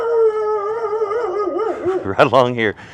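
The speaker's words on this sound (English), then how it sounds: "we have a puppy dog that's going to be barking at us" A puppy gives a long, wavering howl that rises and falls, then breaks into a few sharp yelps near the end, fairly close and loud.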